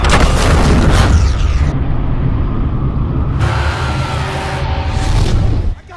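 A big cinematic explosion of light as an arrow from the Epirus bow blasts open a prison in a film, a loud, deep rumbling boom that sustains for several seconds before cutting off abruptly.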